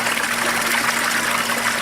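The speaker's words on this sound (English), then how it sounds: "these tanks are going to drain and raise our water level up again" Water drains from aquaponics tanks fitted with a homemade venturi valve in a desert setup. It makes a steady, close, rushing trickle that continues without a break and with no talking.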